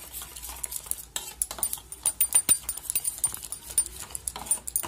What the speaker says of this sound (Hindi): इसको हम चम्मच के माध्यम से इसको मिला लेंगे दोस्तों